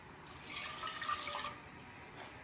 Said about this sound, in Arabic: وكنكبو عليه المقدار ديال الماء اللي عطيتكم